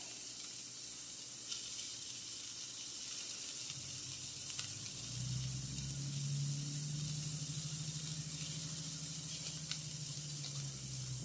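A turkey burger patty frying in a pan, a steady close hiss of sizzling fat that continues unbroken with a low hum underneath.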